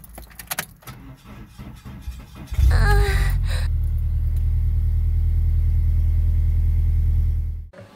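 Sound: car failing to start with a weak battery

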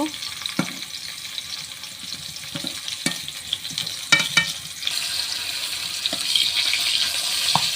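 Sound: frying teasel gourd (kakrol) in oil in a wok

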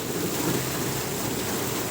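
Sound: heavy rain in Meherpur

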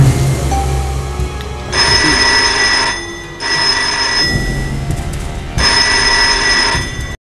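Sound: telephone ringing

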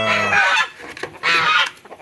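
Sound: chickens clucking

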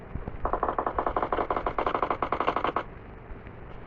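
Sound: gunfire in video game PUBG Mobile

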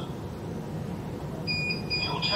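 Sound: NVR recorder alarm beep

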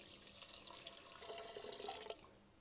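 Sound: water being poured into a cooking pot

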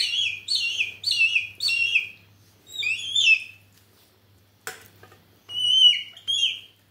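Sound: young hawk-eagle chick calling

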